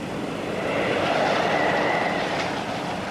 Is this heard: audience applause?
no